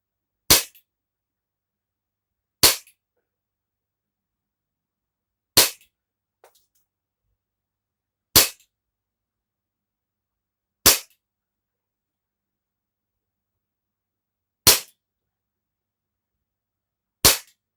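A Taurus PT 92 BB pistol fires seven sharp, isolated shots at irregular intervals of two to four seconds, each a crisp snap against near silence with no voices.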